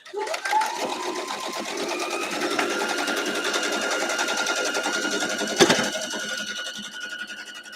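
A sewing machine stitches a strip onto a quilt block for a formal garden block, a steady fast whirring rattle held close for several seconds, with a brief clunk near the end and a voice talking at times.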